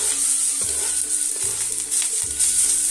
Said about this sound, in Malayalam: ഓയിലൊന്ന് ചൂടായപ്പോൾ വളരെ ചെറുതായിട്ട് കട്ട് ചെയ്ത ഒരു വലിയ സവാള ചേർത്ത് കൊടുക്കാം